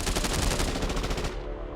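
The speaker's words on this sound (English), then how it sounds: "ear-piercing gunfire" Rapid, dense gunfire in a dark fiction audiobook, a sustained barrage of automatic weapon bursts, loud and continuous for over a second before cutting off into a fading tail.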